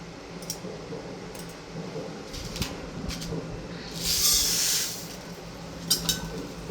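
Oil hisses and sizzles in a pan as red chillies fry for a homemade Konkani masala, with one brief, louder burst of spitting hiss over a quiet kitchen background.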